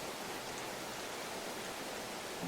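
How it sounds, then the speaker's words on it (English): Steady rain picked up by a GoPro Hero 12 microphone with noise cancellation switched off: a dense, even, fairly loud hiss that holds constant throughout, with no voices over it. "So can you hear the rain right now?"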